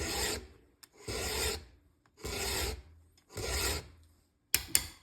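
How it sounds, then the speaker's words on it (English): Hand file sharpening a chainsaw tooth clamped in a vise, four even rasping strokes with short pauses between them, close and clear, followed by two sharp taps at the end. "I'm going to let the file do the work to sharpen the tooth."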